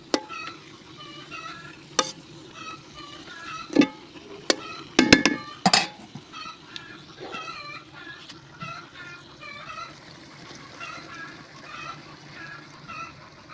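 Dried fish chorchori cooks in a pan over an outdoor clay stove in a garden, giving a low simmering sizzle with occasional loud clatters and scrapes of stirring, and faint bird calls in the background.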